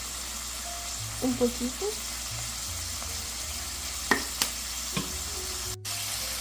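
Ground beef sizzles steadily in a pan for chili, a constant fry hiss with a few stirring scrapes, while someone speaks briefly in Spanish.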